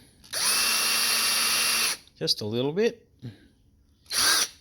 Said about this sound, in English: Then what I'm going to do is drill into the end grain